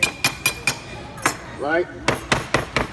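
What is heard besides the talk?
knife blade striking and cutting into a metal hammer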